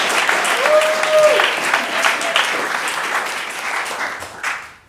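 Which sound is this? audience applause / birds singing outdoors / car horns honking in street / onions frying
audience applause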